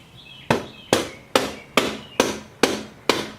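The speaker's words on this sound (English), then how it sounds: "I'm going to hit this with a soft mallet" A soft mallet strikes a motorcycle chain sprocket part seven times in a steady rhythm, each blow a sharp close knock with a short decay, with no talk.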